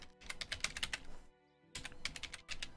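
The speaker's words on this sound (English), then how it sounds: "Wait, I'm typing the completely wrong password in." Fingers type a password on a computer keyboard, a close flurry of crisp key clicks in two quick bursts separated by a brief pause.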